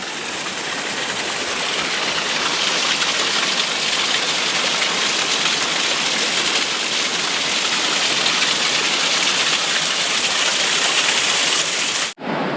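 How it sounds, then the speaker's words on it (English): Steady broadband roar of a waterfall beside a hiking trail, loud and constant throughout with no voices, cutting off abruptly at the very end. "Oh, and there's a waterfall."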